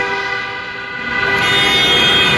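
Car horns blare in a loud, sustained toot that swells toward the end, part of crowds celebrating Mugabe's resignation on the streets of Harare, with several horns layered over traffic noise.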